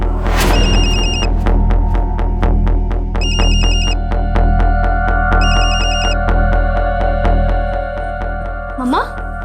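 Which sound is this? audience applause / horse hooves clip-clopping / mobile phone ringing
mobile phone ringing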